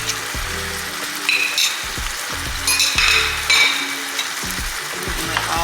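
Cream cheese and tomato sauce with fresh tomatoes cook in a pan over medium-high heat, giving a steady sizzle with a few scraping stirs and clinks of a spoon. No one talks.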